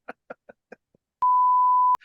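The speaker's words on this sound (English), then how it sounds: "I wish I got paid for every beep I had to put in the episode." Censor beep in a podcast: a single clean, steady tone lasting under a second, preceded by a few short bursts of speech.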